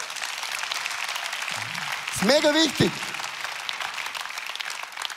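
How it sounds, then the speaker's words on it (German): Church congregation applause fills the hall as steady broadband clapping, briefly overlaid by a short spoken phrase from a voice partway through. "Lasst uns mal für die Grundschöpfung Gott einen Applaus geben."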